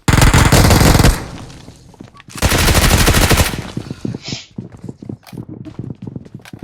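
Video game gunfire with two long sustained automatic bursts, one at the start and one in the middle, then scattered single shots and footsteps-like thuds. Loud and close, with no talk over the shooting.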